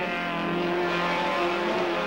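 Honda CRX race car at Snetterton in the 1989 Honda CRX Challenge crossing the finish line, a loud sustained high engine whine held steadily at full throttle close by.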